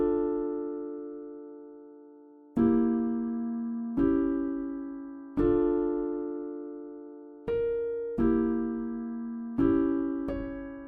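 Synth pattern in FL Studio run through the Unichord Effect plugin's basic preset: six sustained chord stabs with bright harmonic stacks, each struck sharply and slowly fading, spaced about every one to two seconds, clean and alone with no talk.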